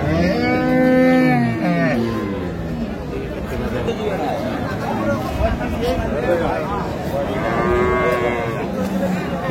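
Cows low loudly at a busy cattle market in Dinajpur, with one long moo early and another later, over a constant crowd babble and nearby chatter.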